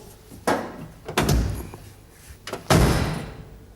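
A car door is swung shut twice during body repair to check its fit after a wing is bolted on, giving two solid slams a couple of seconds apart, each with a short rattle, heard up close in a quiet workshop.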